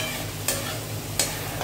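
Paneer is stirred with vinegar in a pan over a constant close sizzle, with two brief scraping strokes standing out about a second apart.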